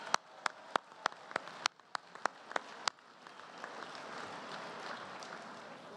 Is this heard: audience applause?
yes